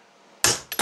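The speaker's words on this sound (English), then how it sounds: "grab a hammer, give it a whack" A quiet pause, then three sharp metallic hammer strikes on a socket against sheet metal, dimpling the panel: one loud blow followed by two quicker, closer taps.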